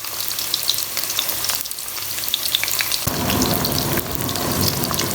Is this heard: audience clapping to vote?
no